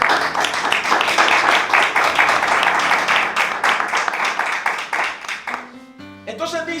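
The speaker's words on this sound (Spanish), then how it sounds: "Denle un fuerte aplauso al Señor." A church congregation breaks into sustained, loud applause at a worship service, dense clapping carrying on for several seconds before tapering off as organ or keyboard chords rise at the end.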